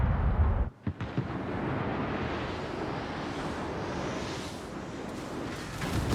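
A naval battle game has a Chinese cruiser, the Sun Yat-Sen, firing its main guns at an enemy ship. One heavy boom opens the clip, then a dense, loud low rumble of gunfire carries on steadily to the end.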